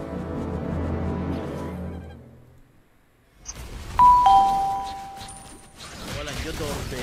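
A doorbell chime rings out during a Mobile Legends match, a bright two-tone ding-dong with a lingering ring, heard after game music and voices fade and over a busy background of game effects.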